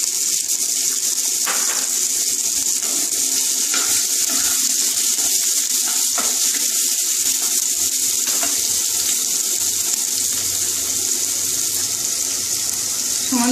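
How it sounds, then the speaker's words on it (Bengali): Onions frying in a pan for a spicy Indian-style egg masala pasta, a steady close hiss and sizzle lasting throughout with a few faint clicks and scrapes. "পেঁয়াজটা দিয়ে দিলাম, ভালো করে ভাজতে হবে।"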